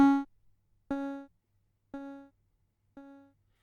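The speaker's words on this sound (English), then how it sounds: "So that's the default setting for the ping pong delay." Ping pong delay effect on an Empress Effects Zoia pedal, a single plucked tone followed by three repeating echoes about a second apart, each quieter than the last, clean and isolated.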